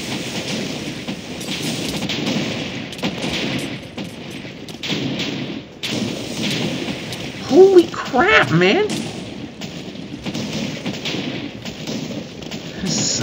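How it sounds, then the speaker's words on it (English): Rapid, continuous booms and thuds from TNT exploding in a Minecraft TNT minigame on the Hypixel server, with someone talking excitedly over the constant rumble. "this is non-stop explosions,"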